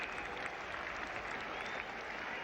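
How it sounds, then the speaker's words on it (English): Crowd and England players applauding West Indies batsman Gary Sobers reaching fifty at a 1973 Test match at the Oval, a steady wash of distant stadium clapping with no gaps. "Applause too from his opponents, the England team."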